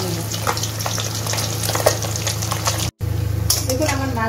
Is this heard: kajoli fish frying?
yes